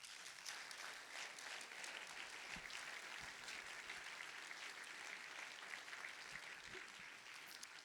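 Faint, steady audience applause for the drivers at the closing ceremony of the FFFH 2024 festival, distant and continuous throughout with no voices standing out.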